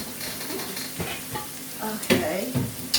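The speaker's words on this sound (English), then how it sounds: "We're going to saute that." Food sautés in a hot pan in a home kitchen: a bright, close sizzle under stirring, with scraping bursts toward the end and a sharp clack at the finish, no voices.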